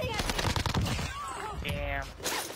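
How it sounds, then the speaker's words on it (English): Gunfire in a Fortnite-style shooter video game, a rapid burst of shots close and loud, layered with game effects and mixed with brief speech. "Shots pin me."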